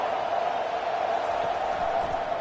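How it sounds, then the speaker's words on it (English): Football stadium crowd at an Ohio State college game roaring on third and long, a steady dense wash of massed voices at constant loudness, heard from a distance. "Here comes the crowd trying to make it tough on 3rd and long."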